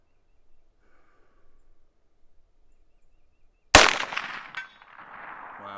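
A single sharp rifle shot from a scoped Heritage Rancher at an outdoor range, sudden and loud after near silence, followed by a brief ringing echo and faint rustling.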